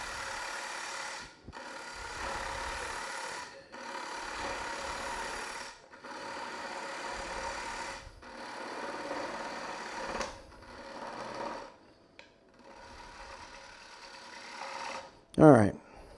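Wood lathe hollowing out a turned piece, giving repeated rasping cuts in bursts of about two seconds with brief pauses, steady and moderately loud, ending in a sharp scrape.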